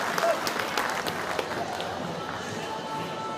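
Football crowd at a Newcastle Jets v Wellington Phoenix A-League match applauding a goalkeeper's save, a steady wash of stadium clapping and crowd noise with a commentator's voice over it.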